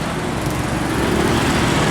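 German Mercedes 1836 engine rated at 360 horsepower idling in an STJ intercity bus at a terminal, a steady close rumbling drone with no variation across the whole stretch.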